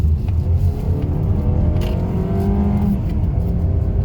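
A 2025 Mazda CX-30 small SUV, apparently the 200 horsepower version, accelerating hard from 0 to 60 with a steady, loud engine roar and rising whir heard from the cabin, with no talk.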